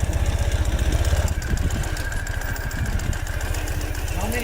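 A 2015 Ural Gear Up sidecar motorcycle in asphalt grey climbs an incline, its engine thumping in a steady, pulsing rhythm close by. A voice can be heard over it at times.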